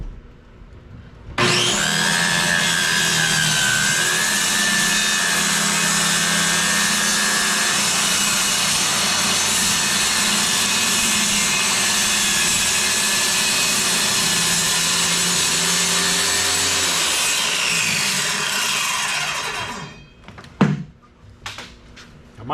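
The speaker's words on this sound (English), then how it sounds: "I'll have to get the jigsaw out." A jigsaw saws wood for an otter lodge floor, a loud continuous close-up buzz for about eighteen seconds that stops, followed by a couple of knocks.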